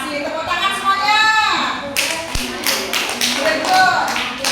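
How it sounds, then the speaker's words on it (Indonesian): Children in a classroom clap together after a lesson, with a few voices over the start, then a burst of brisk, close hand clapping that breaks into rhythmic patterns, joined by some taps and a thud. "Terima kasih, tepuk tangan semuanya."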